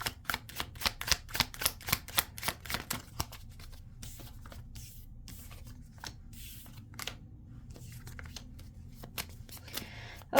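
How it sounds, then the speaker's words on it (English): Rapid papery riffles of tarot cards being shuffled, a quick burst of sharp flicks followed by softer, scattered rustling and slides, close up. "Okay, that matches the shuffle."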